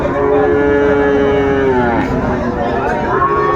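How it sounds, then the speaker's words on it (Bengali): A young bull calf at the Ambari cattle market gives a loud, sustained moo close by that lasts several seconds and wavers in pitch, with faint crowd chatter behind it. "ষাড় বাচ্চা"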